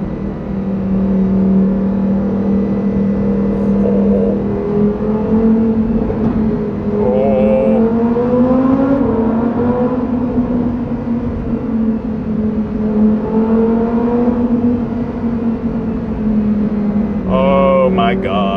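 A sports car engine revs and accelerates loudly and close by, its pitch rising and falling through several surges over about eighteen seconds, with a brief higher whine near the end.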